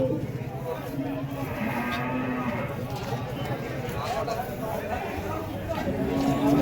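Bulls at a busy cattle market in Vaniyambadi, with occasional lowing and animal sounds beneath steady crowd chatter and background noise throughout.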